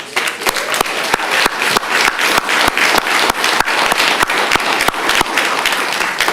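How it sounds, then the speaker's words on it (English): An audience at a county commissioners meeting applauds steadily for several seconds, with sharp individual claps standing out from the dense, continuous clapping in a hall. "That deserves another round of applause."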